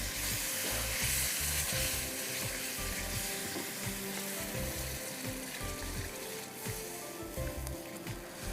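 Pineapple halwa of toasted semolina on the stove as warm milk and water are poured in and stirred, a loud continuous sizzle with a low bubbling underneath and soft scraping stirs, no speech.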